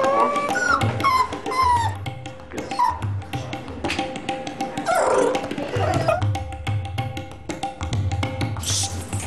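An excited dog whimpers and yips in repeated high, whiny bursts, fairly close, with other dog noises and background sounds around it.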